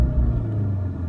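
Volkswagen Golf R MK7 engine held against its 4,000 rpm rev limiter, a loud, steady, close-up low rumble with a slight wavering at the cutoff, with no voices.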